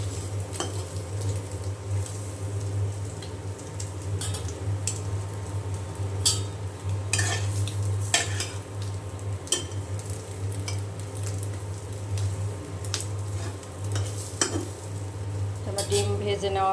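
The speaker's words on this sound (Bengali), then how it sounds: "ডিম ভেজে নেওয়া হয়ে গিয়েছে" Eggs frying in a pan while being stirred and turned with a utensil, a quiet sizzle beneath repeated scraping and clinking of metal on the cookware, set against a steady low kitchen hum.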